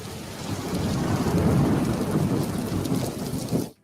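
Rain and thunderstorm sound effect in a radio ad, a steady loud wash of heavy rain with rolling thunder throughout, cutting off abruptly at the end.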